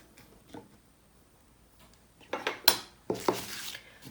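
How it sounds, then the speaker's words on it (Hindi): Ingredients and a pinch of salt are mixed in a bowl for cheese twists, with a few soft taps and then a quick cluster of metallic utensil clinks and scrapes against the bowl, close and fairly quiet, with no talking. "इनको अच्छे से मिक्स करेंगे"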